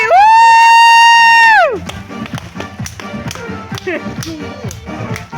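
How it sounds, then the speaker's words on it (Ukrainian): A crowd claps for a birthday girl at a celebration: after a loud sustained held tone cuts off, scattered, rhythmic claps and taps break out, lively and uneven, mixed with voices and cheering. "Підтримайте оплесками її"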